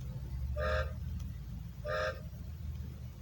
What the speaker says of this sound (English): From the sidings they heard a whistle